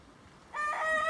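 A rooster crows close by, a loud harmonic call that bursts in after a half-second of quiet and carries to the end.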